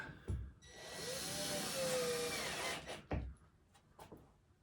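A power drill drives screws into plywood, countersinking them below the surface, with a sustained whining run of a couple of seconds, then short bursts and clicks of the driver afterward.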